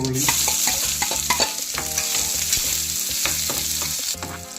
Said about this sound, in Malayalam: ശേഷം കടുക് പൊട്ടട്ടെ